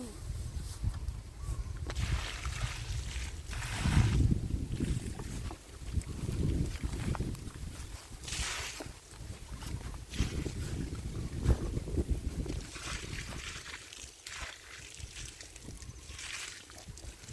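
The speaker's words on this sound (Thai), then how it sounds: "ลมกำลังมา" Wind gusts across an outdoor plot on a mixed farm during papaya planting, a steady broadband rush with surging gusts that buffet the microphone, continuous for the whole stretch and quite loud.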